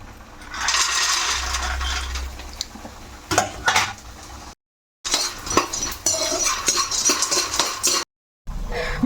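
Makhana (fox nuts) fry in hot oil in a pan, giving a steady close hiss and sizzle broken by metallic scrapes and clinks of stirring, with two short gaps of silence.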